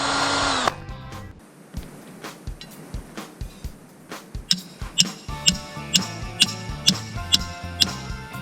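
A power drill drives screw-in tent pegs into the ground outdoors: a loud whirring burst at the start, then a run of regular rhythmic ticks and clicks as the pegs turn through the soil, with no talk.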